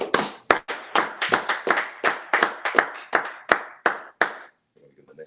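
A congregation at a sabbath service claps, giving about a dozen sharp, loud hand claps in an uneven rhythm that stop abruptly near the end.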